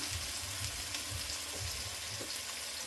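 Onion, garlic and green chili frying in a pan for ghugni give a steady, soft sizzle with faint bubbling, continuous and close without any talking.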